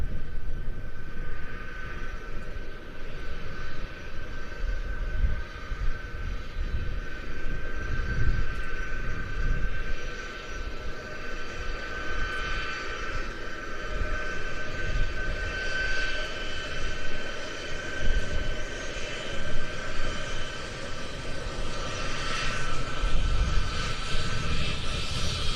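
A Qatar C-17 military transport aircraft at an airshow gives a continuous engine roar and whine that holds steady at moderate distance, with a faint tonal hum layered over the rumble.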